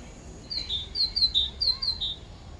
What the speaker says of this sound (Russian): Птицы поют. Слышно?